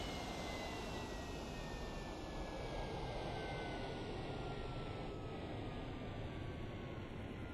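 A-4E-C Skyhawk jet engine winding down after landing in the flight sim DCS, a steady broadband roar with a slowly falling whine running throughout, loud and continuous with no talk.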